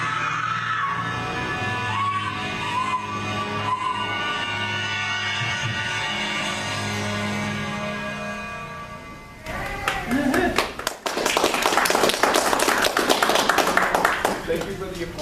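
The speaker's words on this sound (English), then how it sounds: "thank you for the applause." Audience applause for a convention panel at FresCon with the Night Mistress cast. Talk and room noise fill the first part, then a loud burst of crowd clapping with some cheering takes over for the final seconds.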